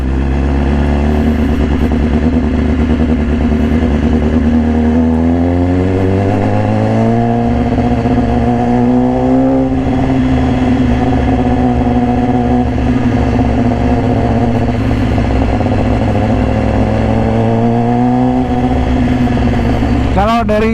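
Loud, steady engine roar from a 2018 BMW S1000RR superbike with an Austin Racing exhaust on the road. Revs climb and settle through several shifts, then hold at a sustained cruising drone.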